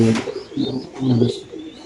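A racing pigeon coos in soft, low repeated phrases, three or four rounded calls close by in under two seconds, with faint chirps in the background and no voices.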